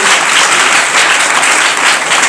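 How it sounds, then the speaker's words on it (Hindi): A large audience clapping loudly at a public gathering, a dense, continuous roar of applause close and sustained throughout, with no speech over it. "एक बार बहुत जोर से ताली बजाइए।"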